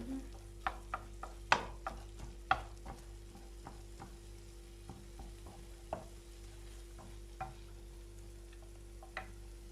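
Minced meat browning in a pan for Kayseri yağlaması, pressed and broken up as it fries, with a faint steady sizzle and scattered scraping clicks and knocks of a utensil stirring against the pan.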